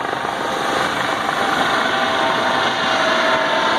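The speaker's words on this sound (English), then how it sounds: "Got a drone flying real low right there." A drone flies low overhead at a beach, giving off a loud, continuous buzzing whir that holds steady at close range with no other sounds on top.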